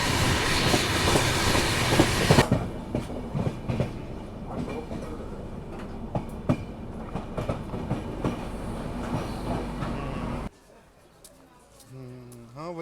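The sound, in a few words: Ajmer Mysuru Express train running on the rails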